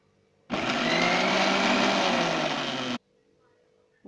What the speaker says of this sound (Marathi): मिक्सरमधील पेस्ट आणि